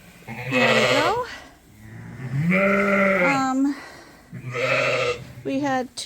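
Sheep in a farm pen, a Suffolk ewe and lambs, bleating loudly and close in three long, wavering calls.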